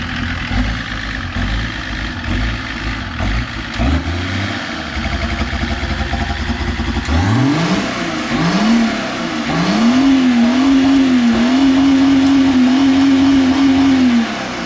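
An old, hard-worn car engine revs up repeatedly in several rising and falling bursts, then holds a loud steady drone, close by, with no talk over it.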